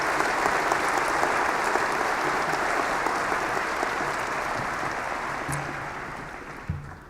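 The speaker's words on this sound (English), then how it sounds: "Please give them a round of applause" Commencement ceremony audience at a university winter graduation applauding steadily: a broad wash of many hands clapping at an even level for about seven seconds, easing slightly toward the end.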